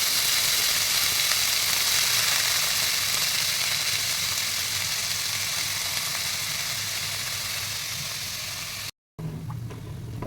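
Steady loud sizzling of vegetable pieces, including taro, frying in hot coconut oil for avial, a continuous crackling hiss that runs unbroken before a brief cut near the end.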